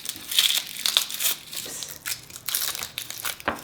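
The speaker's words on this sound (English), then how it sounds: "We need to take apart this garlic, and I'm going to use about 6 pieces." Papery skin crinkling and crackling close up as a garlic bulb is pulled apart into cloves, a continuous dry rustle with small crisp snaps.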